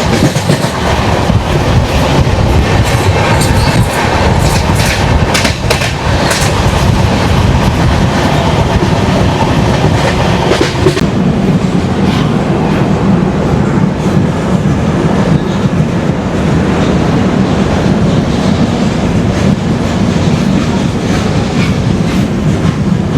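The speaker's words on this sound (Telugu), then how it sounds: "చెన్నై మెయిల్ అంట ట్రైన్ అది." The Howrah–Chennai Mail passes near Odisha, close to Visakhapatnam, as a loud, continuous roar of rolling rail cars with clickety-clack wheel rhythm, steady throughout with no talking.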